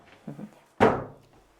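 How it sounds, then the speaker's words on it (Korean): A drawer slides out of a deep built-in shoe cabinet with one loud wooden thunk, a short rumble that fades over about half a second, after a couple of softer knocks. "이게 뭘까요? 서랍장 빼는 거예요?"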